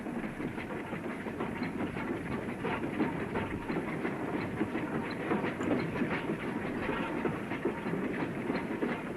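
A goods train running on a single-track branch line near Sedgemoor, a continuous rumbling roll with rhythmic clickety-clack of wheels over rail joints and a faint hiss, steady and close throughout.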